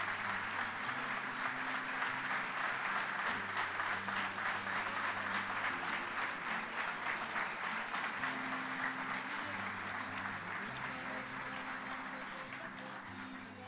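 Sustained applause from an audience at a ceremony presenting commemorative coins to veterans and the fallen, dense and steady throughout, with faint voices and a low drone underneath.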